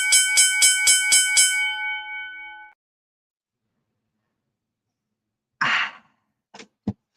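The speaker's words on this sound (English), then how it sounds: "we got the bell" A bell struck about six times in quick succession, each strike bright and ringing, with the tone sustaining and fading over a couple of seconds before silence and a few brief breathy sounds.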